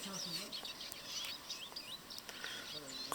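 Birds chirping and calling in a humid mountain meadow after rain, several light, scattered tweets and short whistles, faint and somewhat distant over a soft background hiss.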